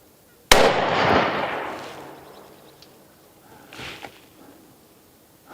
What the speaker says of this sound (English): Third shot here.